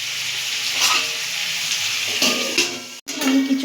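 Potato pieces fry with salt in a pan over medium heat, giving a bright, close sizzle with a few soft clinks and a brief break near the end, as from a lid being handled.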